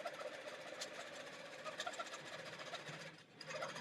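A long-arm quilting machine stitches a quilt with a steady, loud mechanical whir and a rapid needle chatter. The sound runs continuously and close, dipping only briefly near the end, with no talking.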